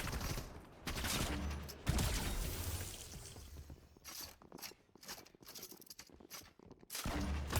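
Bursts of gunfire from the video game Prison Escape 2, loud sustained volleys at the start and end with choppier, sparser shots in between, no talking.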